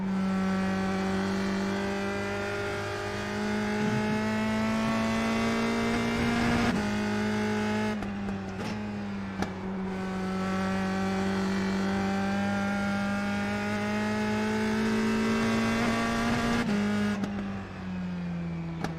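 A USF2000 race car engine in the iRacing sim game drones loudly and continuously, rising in pitch through long stretches of acceleration with a few brief dips for shifts and braking, the engine tone alone throughout.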